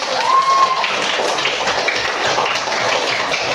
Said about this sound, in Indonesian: Kalau begitu, tepuk tangan sekali lagi.